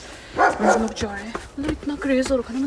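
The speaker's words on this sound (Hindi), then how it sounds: "बगल वाले का कुत्ता भौंक रहा है" A neighbour's dog barks several times in short, sharp bursts nearby while people keep talking over it.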